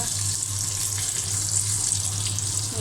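Eggs and taro (kochu) frying in a pan, a bright continuous sizzle and crackle of hot oil held at steady close level for a few seconds, with no talking.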